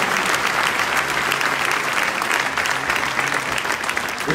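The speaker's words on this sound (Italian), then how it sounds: "Fate arrivare l'applauso della sala che è in piazza." Applause from the crowd in a hall at a political rally in Foligno, a continuous loud roar of many hands, steady throughout.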